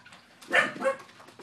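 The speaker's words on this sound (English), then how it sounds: "Mommy's home, so the dogs are going to bark." Household dogs bark excitedly as someone arrives home, a couple of close, loud barks with a yelping whimper, heard alone without talk.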